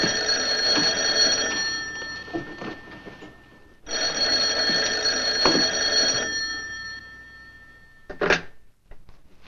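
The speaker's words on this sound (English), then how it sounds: "Answer the phone." A telephone bell rings in two long, loud bursts separated by a brief pause, followed by a short clatter as the receiver is picked up.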